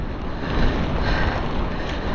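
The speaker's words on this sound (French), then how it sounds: "le vent est en train de se lever et on l'a de face" Strong north headwind roaring against the microphone during a mountain bike ride near Biache-Saint-Vaast, with rain coming in; a steady, loud, continuous rush with no talking.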